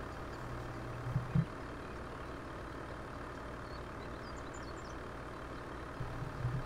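In Farming Simulator 17, a heavily loaded truck's engine drones low and steady, crawling uphill under load, with a couple of brief louder knocks and a faint high chirping in the background.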